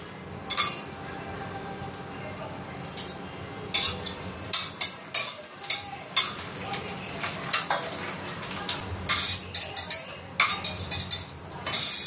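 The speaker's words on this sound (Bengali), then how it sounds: "আর এই যে ব্যাট পাঁপড়, এগুলো একটু ভাজছি" Papad frying in a pan at home while tea is being made, a soft sizzle with repeated metal clinks and scrapes of a utensil, fairly quiet, without talk.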